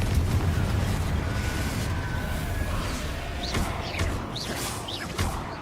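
A Confringo blast spell in the Hogwarts Legacy video game bursts with a rumbling, sustained roar, followed by a few whistling magical effects, loud and close with no talking.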